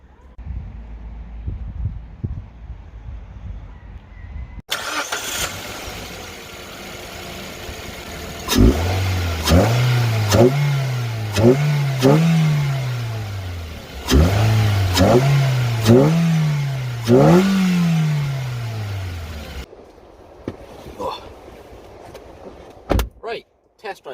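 A Mazda 2 engine fitted with a short ram air intake turns over and catches, then revs up repeatedly in rising surges before settling and cutting off, with some voices and handling noises around it.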